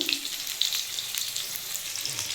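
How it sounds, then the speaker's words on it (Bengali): Potatoes frying in hot oil in a pan, cooked after pomfret fish for a curry, give a steady, close, bright sizzle and crackle throughout with no talking. "আমি এবার এই তেলের মধ্যে একটু আলুটা ভেজে নেবো"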